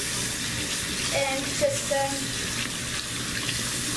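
Hot water runs steadily from a tap into a sink, a constant broad rush lasting throughout, with brief quiet speech over it.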